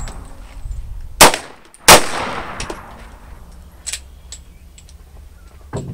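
Handguns are fired by students at an outdoor firing range: two sharp, loud shots close together, then a few fainter distant pops and clanks follow, with no talking.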